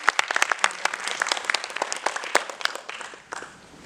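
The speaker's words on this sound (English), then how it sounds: "Let's give a round of applause to her again." Audience applause after a speaker's introduction at a health talk on the future of food, dense steady clapping from a crowd that thins and fades toward the end.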